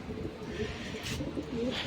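A rooftop pigeon gives a short, quiet throaty coo, faint and close, over a low ambient background with no talk.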